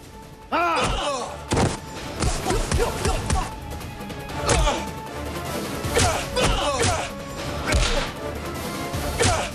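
A televised drama fight scene with several men beating someone: repeated heavy thuds, whacks and scuffling blows land close and loud, with groans and shouting voices mixed in.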